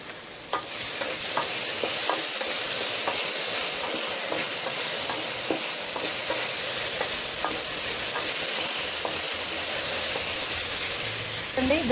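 Okra sizzles and fries steadily in a pan, a dense continuous hiss with repeated scraping stirs throughout, close and moderately loud, no talking.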